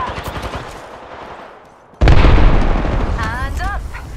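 A sudden burst of loud rapid automatic gunfire in a video game, erupting after a quieter stretch and continuing densely, with brief whistling ricochet-like sounds near the end.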